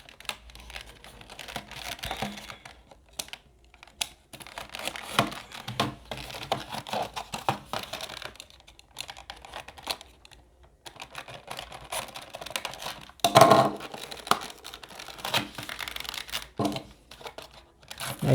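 Packaging for an MSpan electric toothbrush cover cap is torn and crinkled open by hand, giving irregular rustling, crackling bursts and a few sharper rips spread across the stretch, fairly close.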